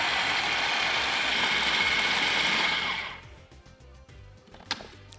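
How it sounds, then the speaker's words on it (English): A temperamental kitchen machine blitzes lemon tart ingredients: a loud whirring, grinding motor runs steadily for about three seconds, then cuts off, leaving quiet clatter and a brief knock. "I'm going to blitz it away. If my machine will decide to work today, it is very temperamental"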